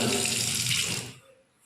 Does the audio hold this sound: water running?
yes